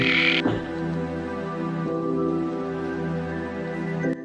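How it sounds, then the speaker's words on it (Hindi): A loud, sustained chorus of croaking frogs in the rain drones steadily, with a brief noisy burst at the start. "बारिश की टपकती बूंदें और मेंढकों का शोर-गुल चीख-चीख कर बताता है"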